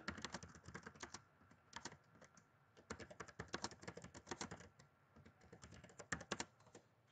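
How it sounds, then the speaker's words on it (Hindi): Typing on a computer keyboard in bursts of quick, close clicks, with pauses between runs of keystrokes. "अब दो तीन वर्ड है वो टाइप कर ले"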